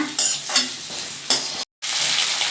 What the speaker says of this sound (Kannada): ಈಗ ಇದನ್ನ ಚೆನ್ನಾಗಿ ಫ್ರೈ ಮಾಡ್ಕೊಳ್ಳೋಣ.